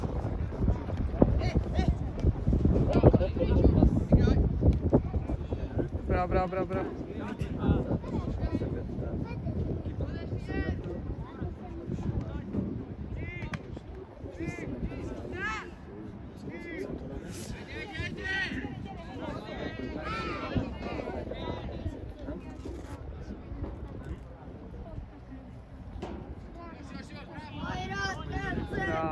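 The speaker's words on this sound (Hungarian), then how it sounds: "Viszont fúj a szél." Wind buffets the microphone outdoors at a friendly football match, a steady rough rumble running throughout under nearby conversation and occasional shouts.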